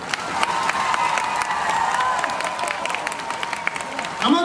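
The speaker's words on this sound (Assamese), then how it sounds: "তালি বজাবৰ কাৰণে অনুৰোধ কৰিছোঁ" A crowd applauds at a public gathering in Sivasagar, Assam, with dense, steady clapping that holds for several seconds and swells again near the end, mixed with a murmur of voices.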